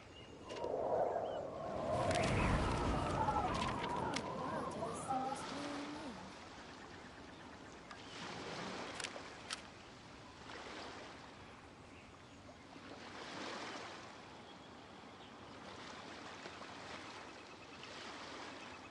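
Ocean waves in the game Genshin Impact, a low, quiet surf rushing in slow swells, opened by a brief warbling call over louder surging water before settling into faint rolling waves.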